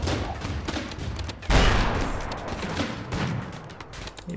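Explosions and gunfire in the RimWorld video game: a dense, continuous rattle of shots with a heavier blast about a third of the way in, steady and loud with no voices.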